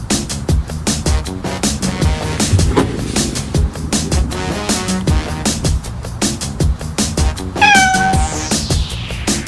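A domestic black cat meows amid dense music with a steady beat, and a short, clear cat call stands out near the end.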